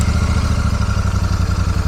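A Royal Enfield Super Meteor 650 motorcycle engine runs just after cranking, a loud close throbbing idle with a rapid, even low pulse and no talking.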